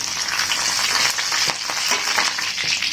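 Mustard seeds, crushed garlic and curry leaves fry in hot oil for a lemon pickle, giving a loud, close crackling sizzle with bursts of spattering pops and stirring scrapes, no voices over it.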